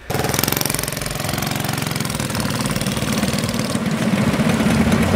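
A twin-engine all-wheel-drive mini bike's small engine runs steadily and loudly, smoking, with a rough knocking, chattering idle that holds throughout at close range.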